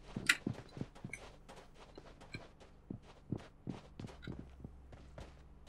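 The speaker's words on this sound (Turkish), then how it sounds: "Çok yakında ayak sesi geliyor." Footsteps in PUBG Mobile, a rapid run of soft thuds close by, irregular and fairly faint, with no talk over them.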